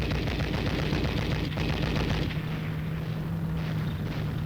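Heavy automatic machine gun fire in battle, a dense continuous roar of gunfire with no pauses, loud and close throughout.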